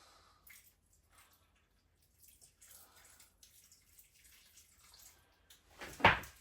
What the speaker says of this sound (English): we're now going to water these plants